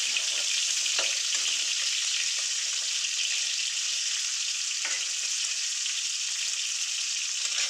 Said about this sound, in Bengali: দিয়ে দিলাম উচ্ছেটা একটু হালকা ভেজে নেব।